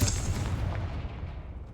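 A Confringo blasting spell explodes in Hogwarts Legacy, one loud booming blast that opens sharply and rumbles away over under two seconds, alone with no talk.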